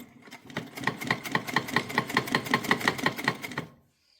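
A sewing machine stitching frock fabric, a fast steady run of evenly spaced mechanical clacks close up, building in over the first half second and stopping abruptly, leaving near silence at the end.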